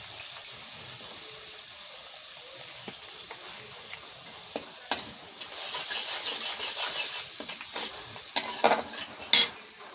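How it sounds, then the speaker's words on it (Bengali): Spice paste stir-fried in a pan for eggplant curry, with a soft sizzle under repeated scraping and clinking of a spatula against the pan in irregular bursts. "এবার মশলাটা একটু কষাবো।"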